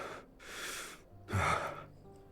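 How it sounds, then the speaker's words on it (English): Erratic breathing from Sylus, a video game character: two ragged breaths close up, a drawn-out airy gasp followed by a harsher, deeper one with a rough catch, alone with no talk. "Sylus' breathing is erratic"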